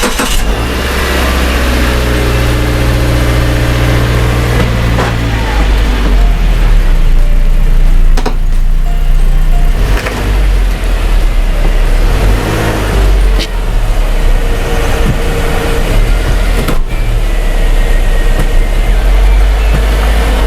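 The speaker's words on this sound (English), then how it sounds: "So I'm gonna hit the car, go up on the ramp" A car's engine drives up onto a ramp ahead of an oil change. Loud, close engine rumble with revving surges and drops, steady low drone between pushes, no talk.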